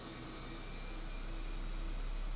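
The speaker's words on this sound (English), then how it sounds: "I can already hear the engine spooling." A jet engine spools up in the MSFS 2020 flight simulator, a steady broad roar and hiss that rises gently in loudness, heard alone without speech.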